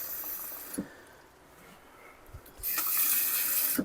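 Tap water runs into a pot of home-canning recipe in a kitchen, a steady splashing pour that starts briefly, pauses, then flows louder and continuously at close range with no talk.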